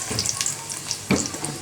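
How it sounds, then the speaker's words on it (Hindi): Diced potatoes go into hot oil with cumin seeds, bay leaves and black and green cardamom for a biryani. A steady, loud sizzle follows, with a brief splash-like burst as they land, and no talk. "और ये इसमें हम डाल रहे हैं आलू।"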